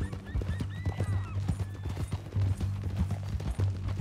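Horse from Red Dead Redemption 2 gives a drawn-out neigh over steady clip-clop of hooves, with a low rumbling game ambience beneath and a brief voice at the start.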